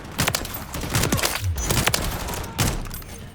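Bursts of gunfire and heavy thuds from a Call of Duty MW3 multiplayer match pop in quick clusters, with a deep boom midway and another sharp volley near the end, moderately loud against game background noise.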